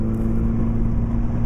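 A 1994 Mazda Miata engine revving, a close, steady mid-pitched engine drone held at raised RPM for a brief moment, with no talking.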